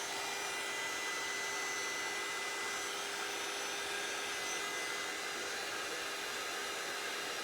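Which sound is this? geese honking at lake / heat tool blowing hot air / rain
heat tool blowing hot air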